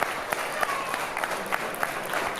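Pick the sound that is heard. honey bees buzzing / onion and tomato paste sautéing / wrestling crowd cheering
wrestling crowd cheering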